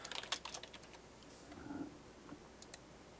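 Quick, light taps on a computer keyboard while a catalog name is entered in vCloud Director, a short burst of clicks at the start then sparse faint keystrokes over low room hiss.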